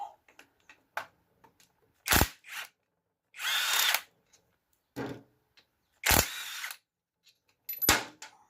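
A power tool buzzes in short bursts as bolts are backed out of a Peugeot rear-wheel-drive differential, several loud whirring spurts close by with quiet clicks and pauses between them.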